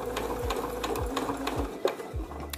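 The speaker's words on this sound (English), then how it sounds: "it's just a lot easier to sew close to the edge like this" A domestic sewing machine with a quarter-inch foot stitches fabric close to the edge, its steady rhythmic needle chatter repeating about twice a second, fairly close and unaccompanied by talk.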